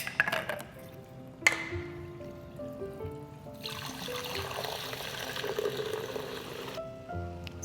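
Liquid trickles and pours with a fizzy, bubbling hiss that swells in the middle and then stops abruptly, with faint background music.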